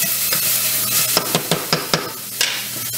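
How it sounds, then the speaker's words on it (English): Onions sizzle and caramelize in a pan alongside cooked vegetables, a steady close frying hiss punctuated by several sharp clinks and scrapes of a utensil stirring against the pan, with no talking. "onions are getting caramelized"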